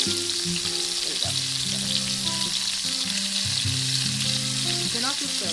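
Oil and butter sizzle in a pan on a stove in a game, a steady loud hiss running throughout under a melodic background tune.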